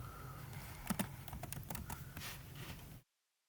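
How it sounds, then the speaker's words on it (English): Quick bursts of typing on a computer keyboard, a few clustered key clicks close to the microphone, then silence. "Here I'm going to type in, let's just go to Google."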